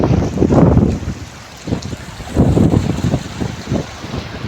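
Sea waves surge and wash onto the shore at Ratnagiri as a fishing boat heads out, arriving in rolling bursts several seconds apart, loud and close, with gusts of wind buffeting the microphone.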